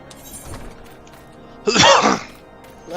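A single sharp sneeze bursts out close and loud after a quiet stretch with faint background sound.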